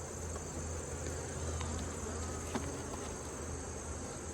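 Honeybees buzz steadily around an opened hive during a late-summer inspection, a dense continuous hum with a faint click partway through and no talking.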